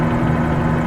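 A helicopter in Microsoft Flight Simulator 2020 flies over Dubai with a steady, close, low engine and rotor drone that does not change.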